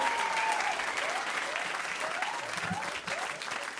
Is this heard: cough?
no